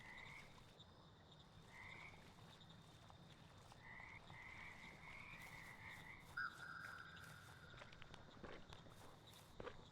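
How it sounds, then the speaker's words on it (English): A frog in the video game Mudborne croaks in repeated short tonal calls, followed by a longer drawn-out croak, over soft game ambience and footsteps. "Huge frog!"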